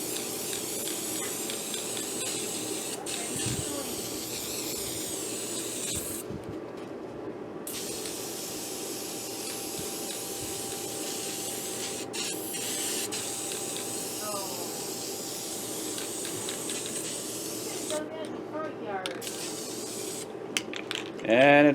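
A cheap spray can of purple paint hisses in long bursts onto a newly welded Craftsman snowblower cutting edge, the spray cutting off and restarting several times, close and fairly quiet.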